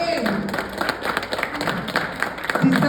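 Audience at a celebration for teachers applauding, scattered hand claps and taps mixed with voices and chatter throughout, fairly steady and moderately loud.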